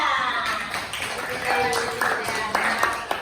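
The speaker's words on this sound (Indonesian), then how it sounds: "tepuk tangan untuk Sea" Classroom clapping for a student after a speech, scattered hands patting unevenly under a teacher's voice and chatter.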